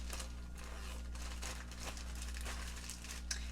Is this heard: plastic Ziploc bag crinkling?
yes